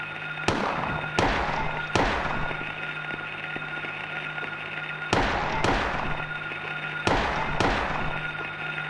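Gunfire in Silent Hill on Nightmare mode: sharp, loud shots in irregular groups of two or three, each decaying with a short echo, over a constant low hum of game ambience.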